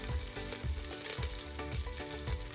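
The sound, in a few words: curry leaves and garlic frying in hot oil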